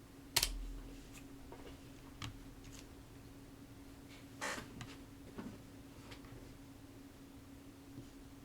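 Isolated key presses on a computer keyboard, the arrow keys and Enter during a graphical install: a few faint, widely spaced clicks over a steady low electrical hum, with no talking.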